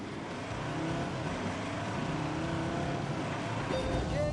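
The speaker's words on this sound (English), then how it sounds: "I am racing a pickup truck off-road in Wales to refuel a helicopter." A 3.2-litre five-cylinder pickup truck races off-road in Wales, its engine a steady, fairly faint drone that climbs in pitch toward the end.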